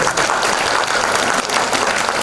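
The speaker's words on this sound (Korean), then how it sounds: "그럼 박수 한번 주세요." A steady, loud wash of dense crowd applause fills a Korean public talk, sustained evenly from start to finish with no speech.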